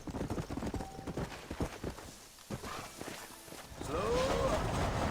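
Horse hooves clop at a steady rhythm on a dirt trail in the Red Dead Redemption video game, with faint voices and ambient game sounds around them.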